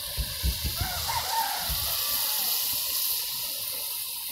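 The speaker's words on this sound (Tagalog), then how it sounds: "Lagyan ng tubig, Linet. Tubig. Yan na po natin ang tubig." Water is poured into a cooking pot of adobong kangkong, a short gush followed by a steady hissing sizzle that fades slightly as it settles.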